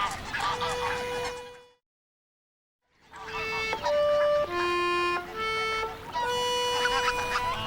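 Greylag geese honk loudly and close by in a string of nasal, trumpeting calls. A short silent break interrupts them, then several overlapping honks pick up again.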